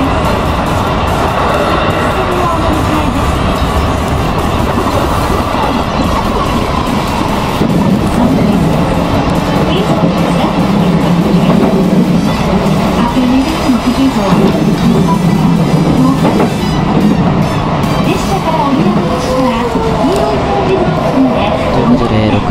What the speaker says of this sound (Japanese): 列車は御幡駅を通過していきます。